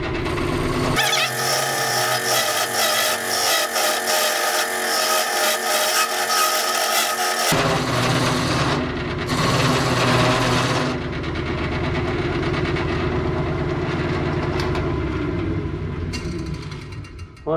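A wood lathe spins an apple wood vase while a tool widens the top of a drilled hole, a loud steady whirring with rough scraping and cutting bursts that change in texture throughout.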